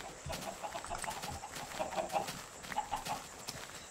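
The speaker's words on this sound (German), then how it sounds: "Ich habe einfach zu viele Hühner" Chickens in the video game Minecraft clucking repeatedly, a faint scattered chorus of short clucks from several birds with no talking.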